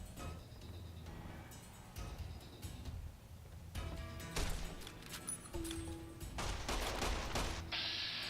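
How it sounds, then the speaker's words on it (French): Gunfire comes from behind the player in the video game Fallout New Vegas as repeated sharp shots and crashes over dense game sound and music, steady and fairly loud throughout. "il y a quelqu'un qui me tire derrière, je crois."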